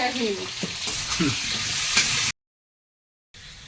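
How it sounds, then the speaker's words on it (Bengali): Potatoes fry with turmeric in a pan, sizzling loudly with a few stirring scrapes; the sound cuts to silence and then returns more quietly. "হলুদ দিয়ে আলুটাকে ভাজা হচ্ছে"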